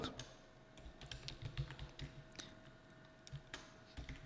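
Rapid typing on a computer keyboard, a steady run of close, light clicks and taps with uneven rhythm and no talk.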